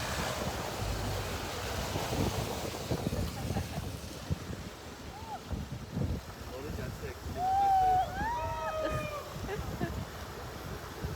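Wind gusts across the open-air viewpoint at Jog Falls in Karnataka, a steady broadband rush with rumbling buffeting against the microphone, while people talk intermittently and a brief whistled tone rises near the middle.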